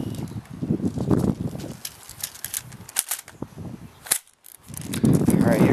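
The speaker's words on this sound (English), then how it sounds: "I'm shooting that red swinging, those three swinging targets." A Crosman Pulse R-76 AK74-style airsoft rifle fires at swinging targets, several sharp snapping shots spaced irregularly, close by, with a person talking before and after the shots.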